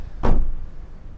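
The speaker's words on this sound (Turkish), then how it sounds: "Bagaj camımızı kapattık." The rear hatch glass of a 2023 Peugeot Rifter GT shuts with a single close, solid thud that fades quickly, with no talking.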